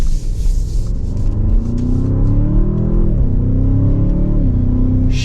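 A 2024 Audi S8 luxury sedan accelerates hard in dynamic mode, its engine rumbling loudly and climbing in pitch, with two quick upshifts briefly dropping the tone before it pulls again.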